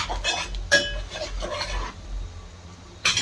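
A spoon stirs masala in a pan for pav bhaji, making soft scraping and rubbing strokes against the metal with a few sharper clinks, close and fairly quiet, with a faint sizzle in the background.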